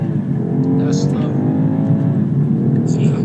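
A BMW 2 Series G42 car engine hums and climbs in pitch as it accelerates in first gear toward a 6,500 RPM redline, a steady drone up close, with a voice speaking briefly over it.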